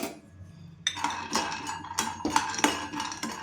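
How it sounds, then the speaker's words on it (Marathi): Almonds being dry-roasted in a pan for sesame ladoos, heard as a quiet start followed by repeated rattling clinks and scrapes as the nuts are tossed and stirred against the metal, close and alone. "बदाम भाजून घेते."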